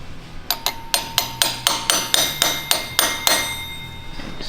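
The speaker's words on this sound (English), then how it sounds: "All right, so you're gonna torque down the flywheel bolts." Flywheel bolts on a V12 Lamborghini Murcielago being torqued with a wrench give a run of about a dozen sharp metallic clicks in a quick, even rhythm, close and loud.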